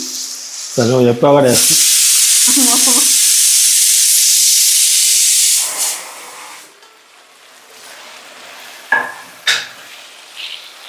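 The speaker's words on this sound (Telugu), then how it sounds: "సొరకాయ ముక్కల్ని వేసుకొని కలుపుకోవాలి" Bottle gourd pieces hit a hot pan and burst into a loud hissing sizzle that fades after a few seconds, followed by scattered stirring scrapes, with brief voices near the start.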